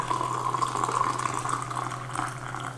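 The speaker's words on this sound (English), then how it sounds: "the waves rushing past the boat" Waves rush past a racing sailboat in the Vendée Globe 2020 ocean race, a continuous close wash of water over a steady low onboard hum, with no talking.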